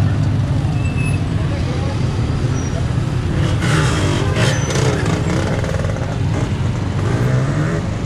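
Traffic including trucks rolling across the main highway bridge in San Gil, Colombia after protests, a steady loud rumble of engines and tires with passing vehicles and people talking nearby.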